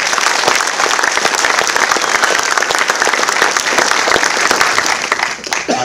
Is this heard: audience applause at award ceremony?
yes